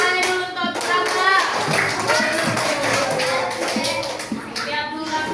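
Children in a classroom clapping for a classmate, a busy patter of many small hands running steadily throughout, mixed with chatter and children's voices.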